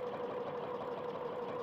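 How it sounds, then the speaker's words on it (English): A sewing machine stitching a quilt hums in a steady, continuous drone at an even speed, close by and without pause, with no talking. "And then I can just stitch."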